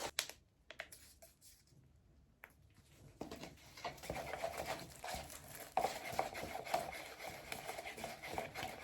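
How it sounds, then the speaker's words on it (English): Soft, continuous crackling and crinkling of a big plastic bag being sat on nearby, with irregular small pops and rustles and no talking. "If you hear a kind of crackling sound, that's because I put a big plastic bag underneath me"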